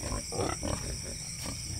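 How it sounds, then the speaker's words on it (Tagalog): Piglets grunt softly again and again in a pig pen beside their nursing sow, giving low snuffling grunts over a steady noisy hum from the barn. "Mayroon din tayong mga anak na baboy dito."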